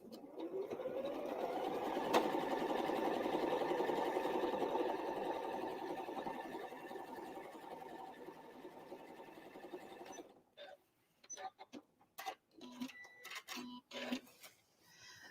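A sewing machine quilting a scrappy fabric place mat runs in one long continuous whirring stretch for about ten seconds, close and steady, then stops and gives way to scattered soft handling clicks and rustles.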